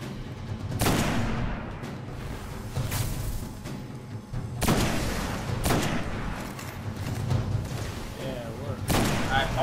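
Repeated bursts of tracker-weapon gunfire in the shooter video game Destiny, during a Nightfall Strike, with heavy booming shots spaced through the clip under ongoing background game noise.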